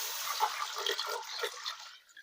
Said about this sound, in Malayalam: ഇനി നമ്മൾ ഇതിൻ്റെ അകത്ത് വെള്ളം ഒഴിക്കണം, ഉപ്പിടണം.